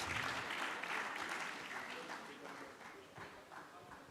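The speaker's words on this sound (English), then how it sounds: "let's put our hands together for him as he makes his way to the stage" Audience applause in a hall for a government minister walking to the stage at a World Ozone Day anniversary event, a steady wash of many hands that fades slightly toward the end, with some voices mixed in.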